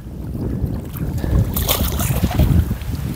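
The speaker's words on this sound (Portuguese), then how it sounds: "O vento agora intensificou ainda mais." Strong gusting wind at an outdoor fishing pond, a broad continuous roar with buffeting wind noise on the microphone and a brief water splash, loud throughout with no voices.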